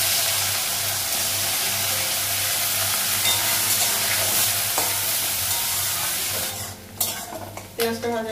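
Dried red chillies, cardamom and green chillies sizzle and spit steadily in hot oil with occasional stirring, a continuous close frying hiss that thins out near the end with a few sharp pops and utensil clinks.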